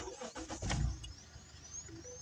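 A car engine starts with a brief low cranking burst that settles into a quiet idle, faint and close inside the cabin.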